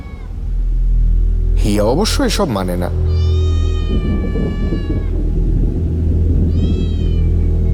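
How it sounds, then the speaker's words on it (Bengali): A cat cries repeatedly from under a staircase, loud and close, its drawn-out wailing meows rising and falling in several bursts while someone narrates over a low rumbling background. "সিঁড়ির তলা থেকে বারবার একটা বিড়ালের কান্না শোনা যাচ্ছে।"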